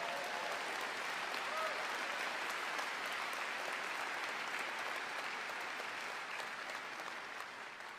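Audience applause at a keynote address during the IUCN World Conservation Congress, a dense, steady clapping from a large crowd that holds for the whole stretch and tapers slightly near the end, with no talk over it.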